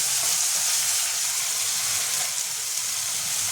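Blended spice paste dropped onto fried onions in a pan for a Bengali potato and prawn curry sets off a loud, dense, continuous sizzle, close up and unbroken throughout.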